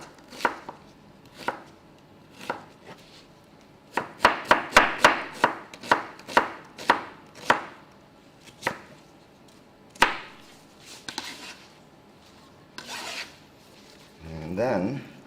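A knife chops vegetables into cubes on a board, sharp irregular knocks that speed into a quick run in the middle before slowing to scattered cuts, close up, with a brief voice at the end.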